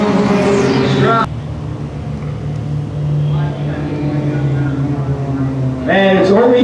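Limited pure stock race cars roar past at Coastal Plains Raceway, engines loud and close at the start and again near the end, with a lower drone between and a commentator talking over it.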